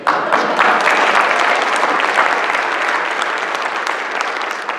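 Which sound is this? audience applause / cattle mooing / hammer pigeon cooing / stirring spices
audience applause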